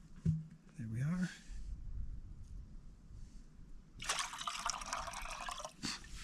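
Water pours from a container into a cooking pot set on the ground at a backpacking camp on the Appalachian Trail, a splashing stream of about two seconds after brief earlier drips, with someone talking nearby.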